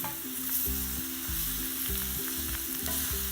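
Brussels sprouts sizzle and crackle in a cast iron skillet, a steady frying hiss under faint background music, with no talking.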